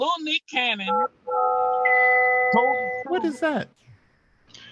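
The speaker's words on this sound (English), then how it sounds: "That's my phone." A mobile phone rings with a sustained electronic tone of several steady pitches, loud and close, between short bursts of speech from people nearby.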